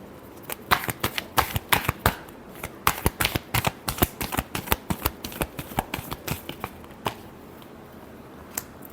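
Tarot cards being shuffled by hand for a weekly horoscope reading: a close, crisp run of riffling slaps and flicks in quick irregular bursts, with no one speaking.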